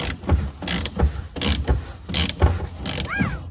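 A ratchet turns a 36mm socket on the fuel filter housing of a Vauxhall Mokka 1.6 CDTi, giving a series of close, rhythmic clicking bursts about every half second.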